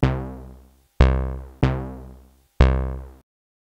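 Four struck synth notes, each with a bright attack and harmonic tone that fades away slowly, cut off sharply at the end; no voices.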